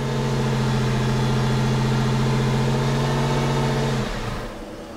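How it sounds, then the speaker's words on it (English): A Porsche 996 flat-six engine holds steady revs with the accelerator pressed, giving a loud, continuous droning hum that drops away abruptly near the end. "That's with my foot on the accelerator."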